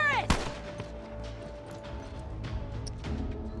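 Automatic turret gunfire in The Last of Us multiplayer: a loud sharp shot opens, followed by a dense, continuous clatter of rapid shots and impacts that carries on to the end.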